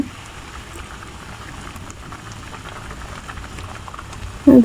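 A pot of curry with ridge gourd and small punti fish simmers in a village kitchen, giving a soft, continuous bubbling hiss that stays even until a brief louder knock at the end.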